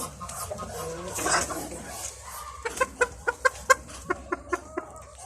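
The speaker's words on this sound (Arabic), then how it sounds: "ودول شويه البط بتوعنا نحط لهم بقى يفطروا" Farm ducks being fed breakfast, with a regular run of about ten short, sharp calls in the second half, after a burst of mixed broadband noise and soft bird sounds. The calls sound close and fairly loud, and no one speaks.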